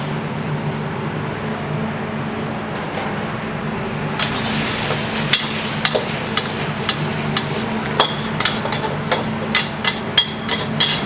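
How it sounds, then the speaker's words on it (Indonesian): Sapo tahu with minced chicken being stirred in a pan, a steady low sizzle under scattered sharp clicks and scrapes of a utensil against the pan, growing busier in the second half. "Nah, aduk-aduk sebentar, masuk si sapo tahunya"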